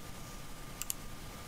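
Two quick, faint mouse clicks close together near the middle of a quiet stretch, made while working in the Vegas video editing software.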